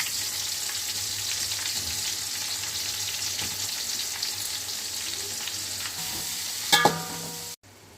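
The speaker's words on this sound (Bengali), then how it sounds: "এবার আমি পেঁয়াজটা ভেজে নেব।" Onion fries in hot oil with dried chilli, cumin and coriander, giving a steady, close, loud sizzle throughout. A brief clink of a utensil comes near the end before the sound cuts off.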